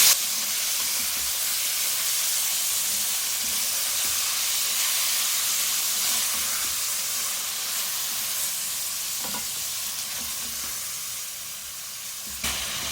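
Hand-minced beef keema frying in a pan, a steady loud sizzle and hiss running throughout with a few faint clinks, no talking.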